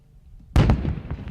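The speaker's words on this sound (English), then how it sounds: "The fireworks display is put on by members of the Northwest Pyrotechnics Association." A single firework from a Father's Day display by the Northwest Pyrotechnics Association bursts sharply after a quiet moment, followed by a short crackling, rumbling tail.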